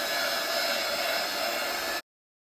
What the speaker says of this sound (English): So I'm gonna use my embossing gun, which is just this